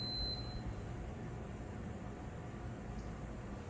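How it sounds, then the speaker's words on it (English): Steady broadband hiss of an air conditioner running, a constant even white-noise hum with no other sounds. "That white noise you're hearing right now is just the air conditioning running."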